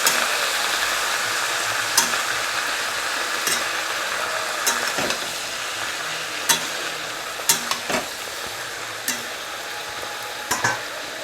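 Spinach is stirred in a hot pan: a constant sizzling hiss punctuated by sharp scraping knocks of a spoon against the pan at irregular intervals, close up with no talking.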